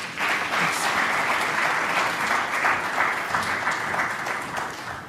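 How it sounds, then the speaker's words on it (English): Steady applause from the audience at a stock exchange listing ceremony for MTN Rwandacell PLC, a dense, even wash of clapping that holds at full strength throughout without fading. "A big round of applause one more time for her."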